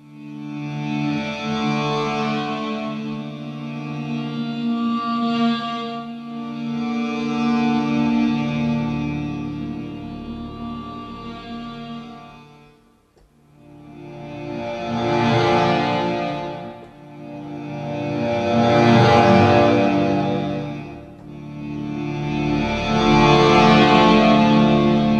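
Crocus Soundware Liminal Bundle instrument sounds drenched in heavy reverb, swelling as sustained washy pads with long echoing tails, loud and continuous with a short dip before three more swells.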